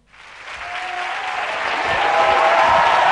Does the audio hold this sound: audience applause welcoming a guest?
yes